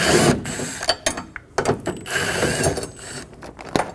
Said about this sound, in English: Using a 10mm, we're going to remove the two screws